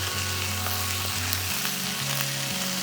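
Chicken frying in a pan on a home stovetop, a steady close sizzle and crackle running without a break, with occasional light stirring scrapes and no voices.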